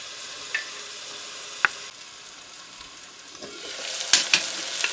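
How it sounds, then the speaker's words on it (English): Half an onion frying in hot oil in a covered pot, a soft continuous sizzle with a few sharp pops and crackles that grow slightly louder toward the end, during Guyanese coconut rice and fried fish cooking. "So my oil is hot. I'm going to add my onion, half of an onion."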